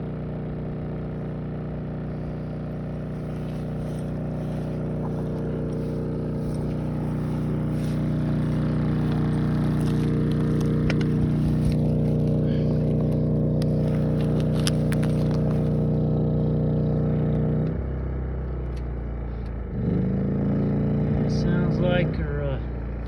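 A generator on a ranch job fusing HDPE pipe runs with a loud, steady engine drone and hum, then drops in pitch near the end and comes back up, with people talking over it.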